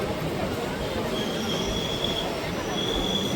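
The Ganadevta Express rolls toward a halt at a signal, a steady close rumble of wheels on track with a high metallic squeal drifting above.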